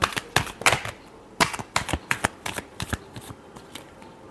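Tarot cards are shuffled by hand in a close series of quick riffling bursts, crisp papery flutters and snaps repeating in an uneven rhythm with short pauses between them.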